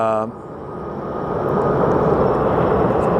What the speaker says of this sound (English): Dreamliner taking off